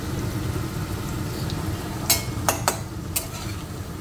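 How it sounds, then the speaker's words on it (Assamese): Taro pieces frying in a pan with cumin seeds and a little turmeric, giving a steady close sizzle broken by a few sharp clinks of a spoon against the pan. "কচুখিনি ভাজি ল'ম"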